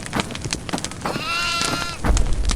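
Goat bleats from the horror video game Devour, a short wavering cry in the middle amid clattering game sounds and thumps, fairly close and moderately loud.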